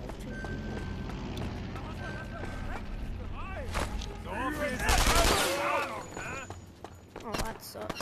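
Rifle gunfire in a first-person war shooter against German soldiers, heard as bursts of cracking shots mixed with busy battle noise and whooshing effects, loudest around the middle, with speech over it.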